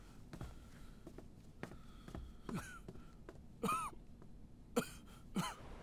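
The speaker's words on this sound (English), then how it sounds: "He's got a high fever and he also keeps on coughing." A feverish man coughs and clears his throat in a quiet room, several separate hacking coughs scattered over a few seconds with faint movement between them.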